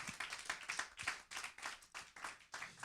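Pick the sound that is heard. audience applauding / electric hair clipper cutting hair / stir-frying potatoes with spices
audience applauding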